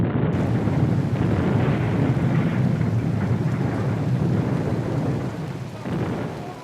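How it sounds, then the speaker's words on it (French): Steady rain pours down with rolling thunder in an outdoor storm, a loud continuous wash that eases slightly near the end, with wind buffeting the microphone. "Ici, l'équipe de montage a dû faire avec la pluie."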